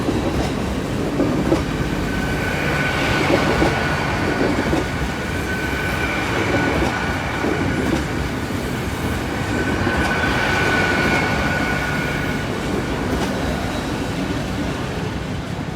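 A Class 800 train, unit 800-203, runs past the Brayford level crossing, a loud continuous rumble with clattering wheels and a rising and falling squeal as the carriages roll by.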